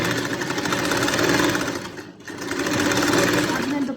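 A sewing machine runs steadily, stitching gum lace onto the edge of a dupatta, with a brief pause midway before the motor's even whirring resumes.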